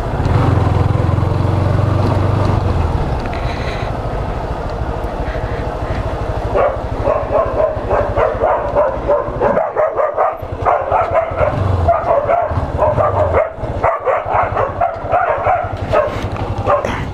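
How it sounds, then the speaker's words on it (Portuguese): A dog on a rural property barks, yips and whimpers excitedly at close range, bursts coming repeatedly over a steady background hum, with no clear talk in between. "esse cachorro ali me adora"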